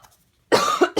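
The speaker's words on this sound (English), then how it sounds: "Pardon my cough." A single sharp, close cough from a woman recovering from tonsillitis breaks a short silence, followed by a brief second catch of breath.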